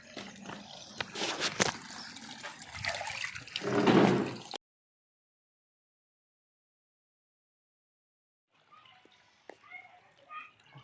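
A mug of water is poured and splashed during a Holi colour-play session, giving a few seconds of splattering and dripping amid children's and adults' voices, then near silence and faint chatter.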